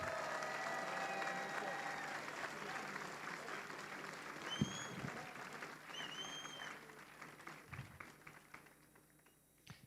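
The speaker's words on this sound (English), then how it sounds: "Let's give our men's elite field a big round of applause." Applause for the men's elite field of runners at the Western States 2024 race meeting, a fairly faint, steady patter of clapping from a gathered crowd that gradually thins and fades out.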